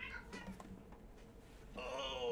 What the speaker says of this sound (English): We got cats back there fighting.